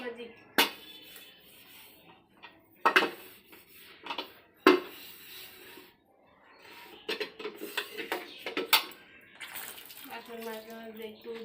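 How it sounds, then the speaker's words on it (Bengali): A lid is set down onto a cooking pot just after green chillies go in, with a few sharp metallic clatters and knocks up close, and a person speaking in between. "ঢাকা দিয়ে দেবো কাঁচা"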